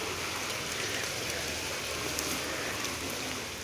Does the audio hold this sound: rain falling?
yes